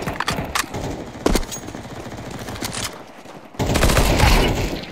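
Rapid gunfire from Counter-Strike 2 on the Dust 2 map in deathmatch mode, with close, sharp shots in quick bursts, a louder stretch of firing toward the end, and almost no talk.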